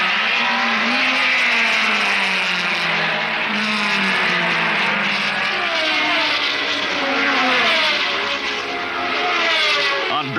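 1960s Formula 2 race cars at full speed on a circuit, a loud continuous engine roar with pitch sweeping up and down as several cars pass close by, no voices.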